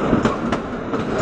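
The Kalka–Shimla toy train runs along a curving mountain track in the monsoon, with a continuous rolling rumble and rhythmic clickety-clack from the carriages.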